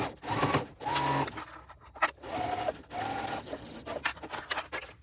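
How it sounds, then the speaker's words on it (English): A sewing machine runs in several bursts, stitching the side panels of a tote bag at a 3/8-inch seam, its motor whirring in close, fairly loud runs separated by short pauses. "We're going to go and sew these side panels on at 3/8 of an inch"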